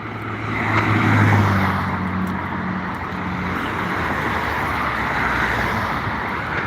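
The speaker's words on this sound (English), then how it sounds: "Still a lot of traffic." Road traffic streams past on a cold day, a continuous broad rumble and tire roar that swells with a passing vehicle near the start, then holds steady, with no talk.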